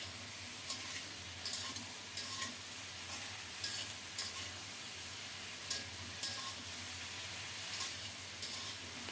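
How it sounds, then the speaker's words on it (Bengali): Mixed vegetables frying in a pan for a vegetable dal, a faint, steady sizzle broken by light, irregular scrapes and taps of stirring, with no voices. "এরই মধ্যে সবজিগুলো সুন্দর মতো ভাজা হয়ে যাবে"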